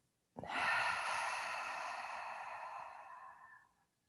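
A slow, steady cleansing exhale during a yin yoga practice: one long, breathy outward breath that starts abruptly, holds strong, then fades over about three seconds. It is close and alone, with no talk.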